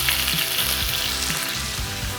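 Meat sears in a pan with a loud, close, continuous sizzle, with faint tonal background sound underneath.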